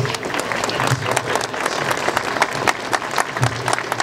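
A large crowd claps and cheers at a Kings Island event for the Banshee roller coaster, dense steady applause filling the space.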